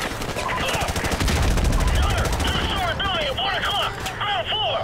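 Rapid heavy gunfire from an AC-130 gunship pounds buildings in Call of Duty 4 Modern Warfare Remastered, dense bursts up front that thin into scattered shots with whistling, swooping tones, a voice talking over it.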